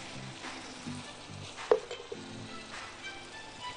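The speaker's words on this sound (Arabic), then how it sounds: "هحط بقى عصير الطماطم، تقليبة كويسة مفيش مشكلة خالص" Minced meat sizzles in a pan as tomato juice goes in and is stirred, a soft continuous frying hiss with a few brief scraping clinks of the spoon, quiet and close, with no talk over it.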